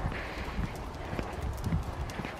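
Horse hooves clip-clop in a loose, uneven rhythm, moderately close, over steady outdoor background noise, with no talking.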